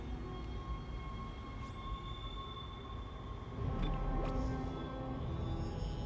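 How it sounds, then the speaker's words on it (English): A tram in the Dead Space video game rolls steadily toward the next zone. A low rumble carries through, with faint tonal whines above it and a few brief clanks partway through, and no voices. "So let's pop in the tram to the next zone."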